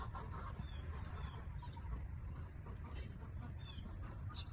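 A hen clucks and croaks softly in short, scattered calls over a low rumbling background, faint and somewhat distant, with no speech.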